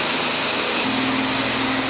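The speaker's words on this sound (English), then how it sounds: "They're cutting the floor for some bay for a ramp or something." Loud indoor machinery cutting a concrete floor for a ramp bay in a workshop, a steady harsh whine that drops slightly in pitch partway through, no voices.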